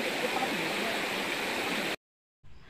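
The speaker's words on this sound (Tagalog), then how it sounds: "hindi nyo ganong marinig yung mga sinasabi namin kasi sobrang lakas ng agos ng tubig" A strong river current rushes loud and steady as a dense roar, cutting off abruptly and then returning more faintly.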